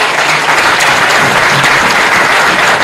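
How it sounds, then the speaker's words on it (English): A loud, steady round of applause from an audience at a school awards breakfast for the class of 2024. Dense clapping sounds close and continuous with no pause. "How about a round of applause?"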